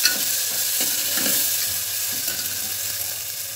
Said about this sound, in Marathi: हे छान मिक्स करून घ्यायचं।